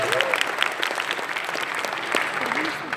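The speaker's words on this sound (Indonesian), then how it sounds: "tepuk tangan dulu boleh?" Applause from a student audience during a campus Q&A session with candidates, a dense, steady patter of clapping that holds throughout with a few voices mixed in.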